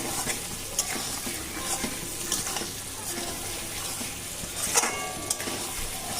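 Mutton pieces with spice masala fry and get stirred in a pan for a thin mutton curry, a continuous close sizzle with periodic scraping strokes of a spatula and occasional sharp clinks.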